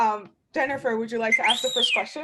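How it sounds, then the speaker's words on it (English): An alarm goes off during a founder pitch night, a high rising and falling electronic whistle-like tone that sweeps up and back down, heard clearly over a nearby voice speaking. "Sorry about that. That was my alarm."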